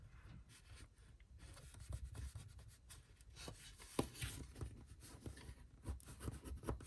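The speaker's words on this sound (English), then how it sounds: "I'm going to fold that down and give that a good burnish." Soft rubbing and scraping as a folded paper envelope edge is burnished flat, close and quiet, in irregular short strokes with no talking.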